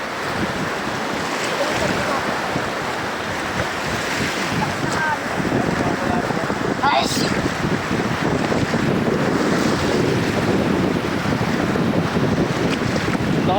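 Strong ocean waves surge and crash in a constant roar at a fine-sand beach, with heavy wind buffeting the microphone throughout.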